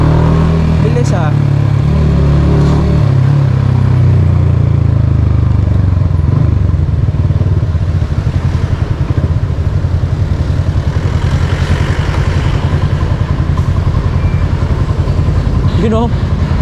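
A motorcycle engine runs steadily and close throughout, a continuous low rumble with some clatter, while people talk nearby.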